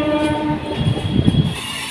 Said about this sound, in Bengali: আমাদের পাশের লাইনে যাচ্ছে একটা এক্সপ্রেস তার সঙ্গে আমাদের এই হলদিয়া ফার্স্ট সেটাও চলছে